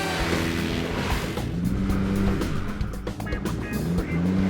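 Polaris RZR off-road side-by-sides racing along a fast trail near West Yellowstone, engines roaring steadily and close with shifting revving pitch, a continuous loud drone throughout.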